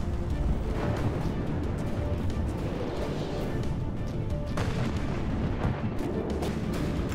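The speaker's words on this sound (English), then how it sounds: "The cannons firing down," Heavy cannon fire from warships in the naval combat game From the Depths, a dense continuous barrage of booms and crashes that stays loud for the whole stretch with no talking.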